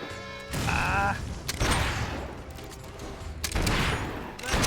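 Rapid bursts of gunfire in the Fable 3 video game, fighting a large enemy, with repeated loud shots rattling off in clusters over nearly five seconds against game sound.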